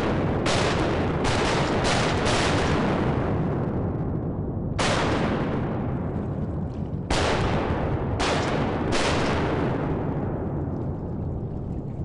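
Shotgun blasts from a mallard duck hunt ring out loud and close, roughly eight shots in uneven clusters, each with a sharp crack and long echoing tail.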